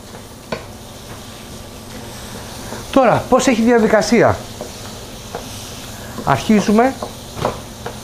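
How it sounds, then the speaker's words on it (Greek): Risotto rice sautés in fresh butter in a small frying pan, a soft, steady sizzle running beneath a person talking in short bursts. "να σοτάρουμε το ριζότο μαζί με το φρέσκο βούτυρο που έχουμε βάλει"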